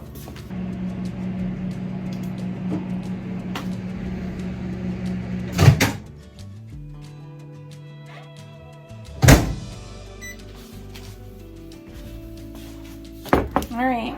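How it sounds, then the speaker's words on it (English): Steady hum of a microwave oven melting butter, running for several seconds, broken by a few sharp clunks and beeps, with a lower rumble shifting partway through. "I'm gonna put this in the microwave."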